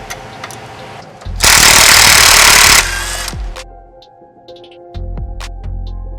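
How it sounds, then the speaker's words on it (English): Cordless electric impact gun loosening the 14mm nuts on an exhaust Y-pipe: a loud, close burst of rattling hammering for about a second and a half, then quieter clinks and mechanical knocks from the work area. "after that you can go ahead and grab your cordless electric gun"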